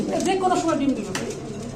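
A white Mundian pigeon's low cooing mixes with a person talking close by, the calls rising and falling briefly under the voice.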